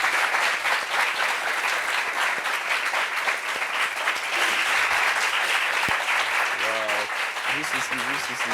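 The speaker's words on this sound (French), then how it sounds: "Applaudissements pour elle." A studio audience on a talk show about workplace sexual harassment gives a guest sustained, even applause for several seconds, with a voice briefly calling out near the end.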